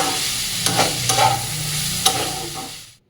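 Chicken mince and washed Gobindobhog rice sautéed with spices in a pan, a steady close sizzle broken by several sharp spatula scrapes and clinks against the metal, with no voices, ending in sudden silence.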